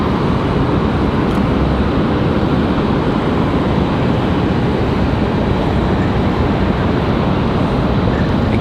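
Airplane arriving at Raleigh Durham airport in the evening, a loud broad steady roar that holds without a break, with no talk over it.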